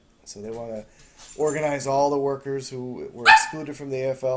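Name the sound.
dog barking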